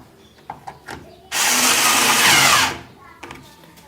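A power screwdriver whirs loudly for about a second and a half, driving screws into an Electrolux LAC13 washing machine during reassembly. Light tapping and handling noises come before and after the run.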